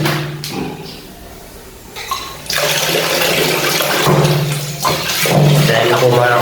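Water pours and splashes loudly during a bath, rushing in uneven surges with brief pauses between pours.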